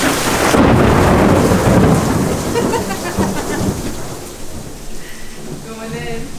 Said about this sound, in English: we can eat out here and listen to the rain